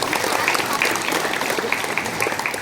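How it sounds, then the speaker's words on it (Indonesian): An audience at an Indonesian community organisation thanksgiving gathering applauds in a steady, dense wash of clapping that is fairly loud and continuous, with a hint of voices underneath. "Tepuk tangan sekali lagi."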